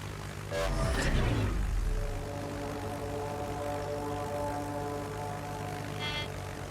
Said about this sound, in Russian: Истребитель, возвращались на корабль.